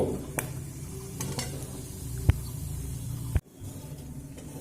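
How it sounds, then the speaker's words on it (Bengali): Whole spices, cardamom, cinnamon, cloves, dried red chili and cumin seeds, frying in hot oil for a tempering, giving a steady close sizzle with a few sharp clicks of a spoon against the pan. "আর দেব অল্প একটু গোটা জিরে ফোড়নটা ভাজা হতে দেব"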